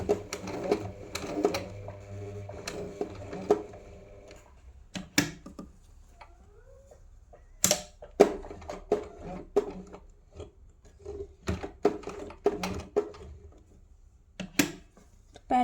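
Sewing machine stitching a blouse in short bursts of rapid mechanical clatter, separated by pauses, clicks and handling taps, close and moderately quiet.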